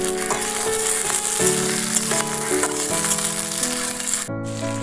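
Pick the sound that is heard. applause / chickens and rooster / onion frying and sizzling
onion frying and sizzling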